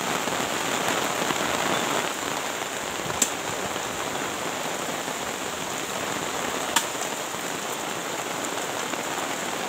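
Steady, dense rain pours down during a rainy-season grave dig, a continuous hiss of drops on surfaces with two brief sharp knocks standing out, no voices heard.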